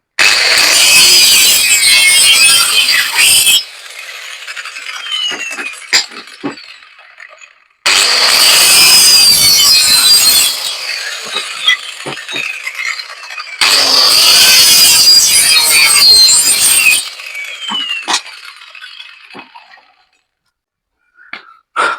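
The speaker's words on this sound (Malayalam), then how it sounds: "ഇതാണ് നമ്മൾ കട്ടർ മെഷീൻ വെച്ച് കടകിന്റെ തട്ടെടുക്കുന്നത്" A power cutter screams loudly through wood in three long passes, each several seconds, separated by quieter intervals with light clinks and knocks.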